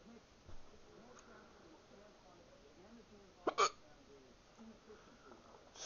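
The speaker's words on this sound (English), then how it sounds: "It's 2 days in a row I've had hiccups." A person hiccups a couple of times in quick succession midway through, close and sharp against an otherwise quiet room with faint background murmur.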